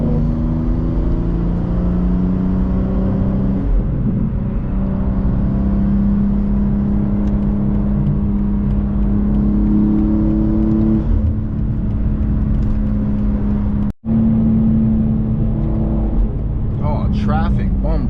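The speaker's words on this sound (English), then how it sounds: "The car sound good today" A BMW performance car, an M2 or X3 M, drones steadily at speed on a New York City highway, with engine and road roar constant throughout. Wind noise and other traffic mix in, and voices talk over it.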